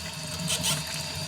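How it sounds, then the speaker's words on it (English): Tap water running into a drain at a steady rate, a continuous hiss and gurgle over a short stretch. "I'm going to turn the water on"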